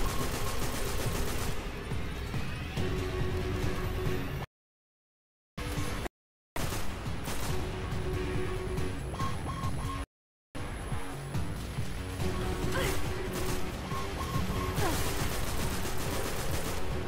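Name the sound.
gunfire in the video game Destiny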